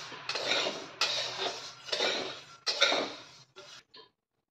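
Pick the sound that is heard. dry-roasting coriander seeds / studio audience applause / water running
dry-roasting coriander seeds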